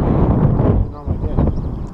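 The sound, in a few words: wind blowing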